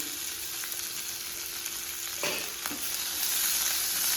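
Thinly sliced onion with curry leaves frying in oil in a pan for chicken varavu, a steady sizzle broken by a couple of spatula scrapes as it is stirred, close and without speech.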